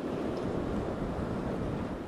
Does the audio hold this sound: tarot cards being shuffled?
no